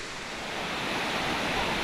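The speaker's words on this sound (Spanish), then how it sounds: "Y esta hermosura es la segunda cascada." A waterfall, the second cascade near Minca, Colombia, roars as a dense, steady wash of rushing water that swells slightly louder, with no voices over it.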